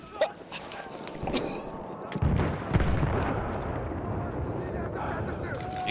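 Shotgun and sniper gunfire in a Battlefield 1 firefight, with sharp cracks and booms scattered over a constant roar of battle, some near and some distant, and people talking throughout.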